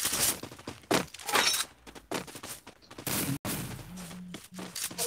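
Dense gunfire in the battle-royale game Free Fire, rapid bursts of shots with cracking, shattering impacts, loud and continuous with brief gaps, no talk.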